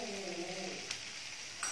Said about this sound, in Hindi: अब इन्हें हम सौते करेंगे।